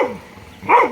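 A dog barks twice, about half a second apart: short, fairly close yips with a quiet gap between them and no talking.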